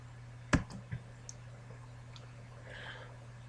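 A computer mouse clicks during a game of Amnesia: one sharp, close click stands out, followed by a few fainter ticks over a low steady hum.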